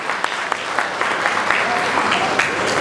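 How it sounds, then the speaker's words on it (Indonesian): Dense applause from a crowd, steady and loud throughout, with sharper individual claps popping out of the wash. "Berikan satu tepukan"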